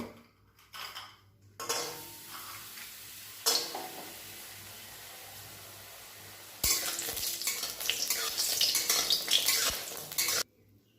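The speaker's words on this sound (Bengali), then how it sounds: "তেলটা গরম হয়ে গেছে, এবার বড়িগুলো তেলের মধ্যে দিয়ে আমি হালকা করে ভেজে নেব" Lentil dumplings (bori) frying in hot mustard oil in a pan: quiet crackles and short sizzle bursts at first, then a louder, dense sizzle that keeps going until it suddenly stops near the end.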